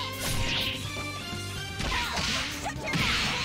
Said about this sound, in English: That whip looks exciting,